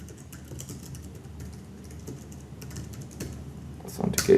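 Typing on a computer keyboard while writing code, with soft, irregular key clicks at close range and a louder burst of keystrokes at the end.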